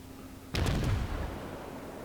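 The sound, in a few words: naval gun salvo, USS Pensacola, World of Warships video game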